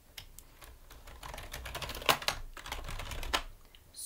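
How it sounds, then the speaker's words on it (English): Someone types on a new computer keyboard with loose keys for a PS4, producing a quick run of close clicks and clacks with a few sharper strikes, and nobody speaks over it. "just listen to the sound of it."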